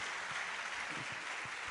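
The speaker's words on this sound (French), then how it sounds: "On va applaudir encore le père de Raoul." Audience clapping for a guest on a French talk show, a dense, even wash of applause heard at moderate distance, continuous across the short moment with no voices over it.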